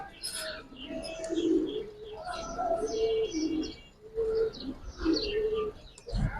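Domestic pigeons of the Giribaz high-flyer breed cooing in a loft, repeated low rolling coos in bursts with a few chirps and brief wing flutters, close and fairly loud.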